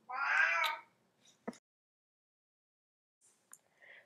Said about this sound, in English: And I apologize for my cat.